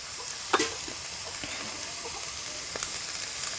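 Goat blood fry with grated coconut, pepper powder and coriander leaves sizzles softly in a pan, a steady low frying hiss with a couple of brief spoon scrapes as it is stirred.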